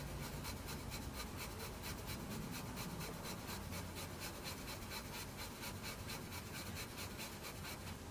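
Fiberglass pen scrubbing an Olivetti M250 circuit board, giving a faint, steady rapid rasping with a quick back-and-forth rhythm throughout, close up and alone.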